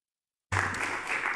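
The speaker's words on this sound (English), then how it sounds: "The applause interrupted how I was going to finish the answer." Applause breaks out in a council meeting after a short silence, a sudden, steady burst of many hands clapping in a room.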